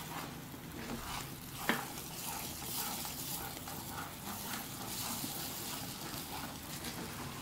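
Ten beaten eggs cooking as egg bhurji in a pan, a continuous soft sizzle with light stirring scrapes and one brief clink, quiet and steady.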